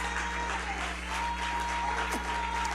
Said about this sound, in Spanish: Si yo fuera usted, aplaudiera un poquito más fuerte a eso